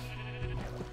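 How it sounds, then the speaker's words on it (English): A sheep bleats once in a video game, a short wavering call rising over a low steady background hum, close and fairly clear with no talking. "It's the tree sheep. The sacred tree sheep."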